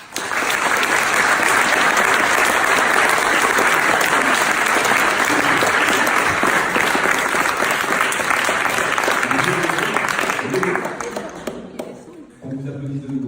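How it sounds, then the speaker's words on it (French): An audience at an agricultural video competition awards ceremony applauds loudly and steadily for about ten seconds before the clapping fades, and a voice begins speaking at the end. "On vous applaudit de nouveau."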